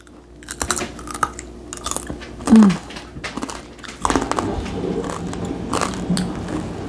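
Close crunching and chewing of homemade honey roasted pumpkin seeds, crisp irregular bites and crackles with a brief swallow-like sound partway through.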